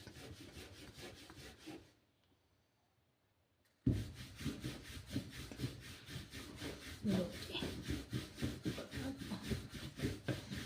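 A rolling pin rolls out radish paratha dough in quick, rhythmic rubbing strokes. The strokes stop for a brief pause and then resume steadily, close and fairly quiet.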